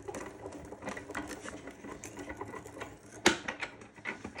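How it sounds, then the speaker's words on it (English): A die-cutting plate rolls through a Sizzix Big Shot Plus manual machine with a quick, rattling mechanical whir and a sharp clack near the end, close and alone. "We're going to cover it up, and I'm rolling it through my Sizzix Big Shot Plus"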